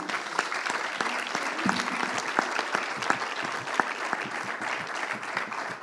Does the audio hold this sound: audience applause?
yes